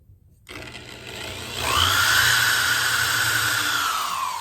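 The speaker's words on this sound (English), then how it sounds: "Drill a little hole." A small power drill whirs up and bites into wood to drill a small hole, its pitch rising and holding steady in a close, continuous grind.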